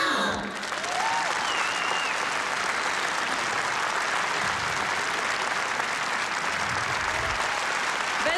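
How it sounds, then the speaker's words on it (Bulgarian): Sustained applause from an audience at a fashion collection show, dense and even clapping that carries on steadily for several seconds after a brief voice at the start. "Джуниор, специални аплодисменти"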